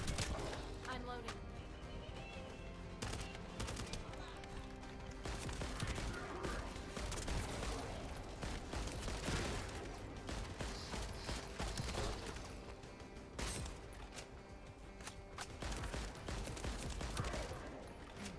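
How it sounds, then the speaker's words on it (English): Dense gunfire in the video game The First Descendant: a steady rattle of rapid shots and impacts that continues throughout, mixed with game sounds and voices talking. "That stopped the gunfire."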